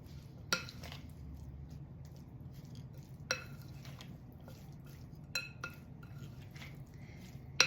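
A salad is tossed in a bowl at home, giving a few sparse clinks and light scrapes of utensils against the dish over a low steady background hum, with no talking.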